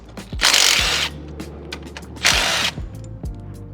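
A power tool spins out a hood latch bolt on an Infiniti QX60, giving two loud, close whirring bursts, each under a second, followed by lighter clicks and handling sounds.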